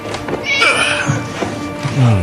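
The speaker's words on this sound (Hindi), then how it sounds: "उस बिल्ली का नाम हुल्डा है।" A cat in a dubbed action-adventure film scene meows a few times, with a higher drawn-out cry early on and lower, shorter meows later, mixed with faint background voices.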